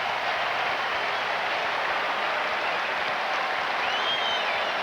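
At the SkyDome in Toronto, a baseball crowd at Game 5 of the 1991 ALCS, Twins at Blue Jays, cheers and applauds in a broad, continuous roar that holds steady and loud throughout.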